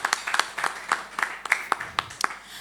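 An audience at a business talk event claps, a short, sparse burst of individual hand claps from a few people at an irregular rhythm, fairly close and brief.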